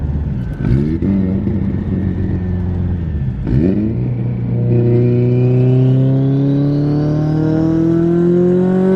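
Turbocharged car pulling hard in second gear, engine note climbing steadily after a brief dip, loud and close from inside the cabin with no speech.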